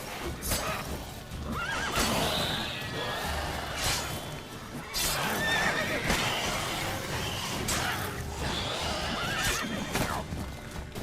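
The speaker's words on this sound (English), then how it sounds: "Hold up, did that horse just kick me?" A horse in the video game Witcher 3 neighs and whinnies several times amid hoof clip-clops and game noise, close and fairly loud.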